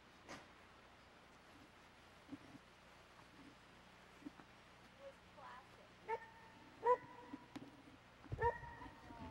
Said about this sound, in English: you got the dog named Dusty